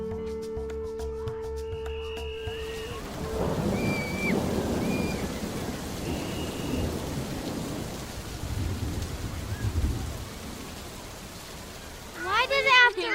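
A thunderstorm with steady rain falling on surfaces and rolling thunder building in the middle, heard after an opening of other sounds, with a voice near the end.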